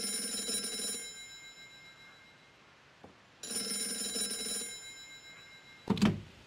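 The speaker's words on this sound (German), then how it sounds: "Das Telefon klingelt gleich." An old-style telephone bell rings in two long bursts with a pause between, indoors in the Gray Matter video game, followed by a soft thunk and a short clatter.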